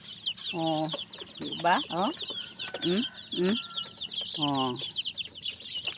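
Chickens cluck repeatedly on a farm as they wait to be fed, with several close, loud bursts of clucking and a faint high steady tone behind; a person speaks briefly.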